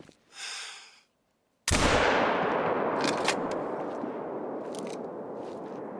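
A rifle shot cracks out loud and sudden while hunting in The Hunter: Call of the Wild on Rancho Del Arroyo, after a brief breathy sound and a silent pause, then a long rolling echo that tails off slowly.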